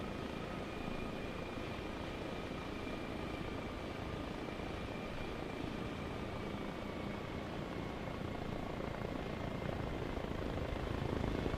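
Friendly helicopter flying in the military video game Arma Reforger, a steady, loud rotor and engine drone that holds unbroken throughout, with a faint whining tone on top.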